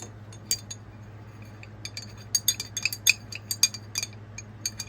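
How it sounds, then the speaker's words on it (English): A spoon stirs a percolated herbal liquid in a glass, giving a run of light, irregular clinks and taps against the glass over a low steady hum, close and fairly quiet, with no talking. "we just want to stir this around"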